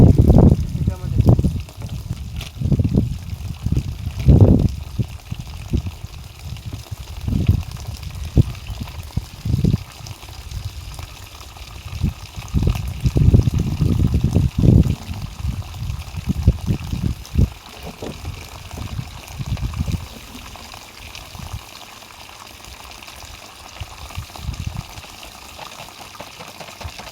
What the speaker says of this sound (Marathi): पहिले डाल्यामध्ये पाणी वगैरे भरून घेऊ व्यवस्थित